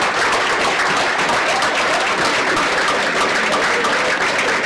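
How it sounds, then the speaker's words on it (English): An audience at a karaoke show's final night gives a round of applause, a continuous loud burst of many hands clapping with no break. "We'll give a big round of applause to everybody for coming out."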